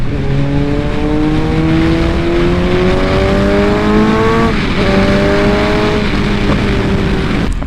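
A 2019 Suzuki Hayabusa motorcycle cruises on the highway, its engine note rising steadily through the gears with a shift partway through, loud and close under strong wind roar.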